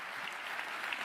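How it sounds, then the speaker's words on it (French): Audience applause for Ivorian President Alassane Ouattara at a forum, a steady, smooth wash of many hands clapping, heard somewhat distant and even throughout. "Et s'il vous plaît, applaudissez-le,"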